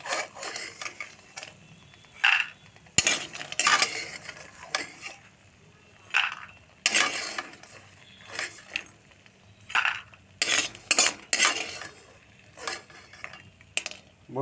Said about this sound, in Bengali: হালকা করে বড়ি ভেজে নিলাম, দেখতে পাচ্ছ বন্ধু কালার হচ্ছে।